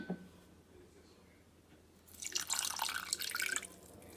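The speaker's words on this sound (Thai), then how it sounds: "ก็จะใส่น้ำตาลไปเลยจ้า แล้วก็ตามด้วยน้ำ" Water poured into a pan of sugar for caramel, a brief trickling splash that starts midway after a quiet pause and runs for about two seconds, close to the microphone.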